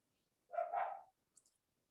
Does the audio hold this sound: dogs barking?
yes